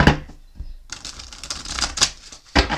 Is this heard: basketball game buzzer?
no